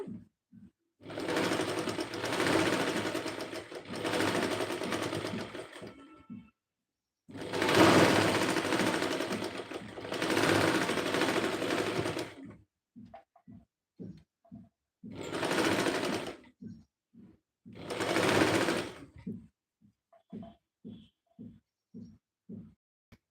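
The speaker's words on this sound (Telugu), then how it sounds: "ఇక్కడ నుంచి ఇలా స్టిచ్ చేసుకోవాలి" A sewing machine stitching in bursts, several loud close runs of rapid rhythmic clatter lasting one to three seconds, with short gaps and scattered single clicks between them.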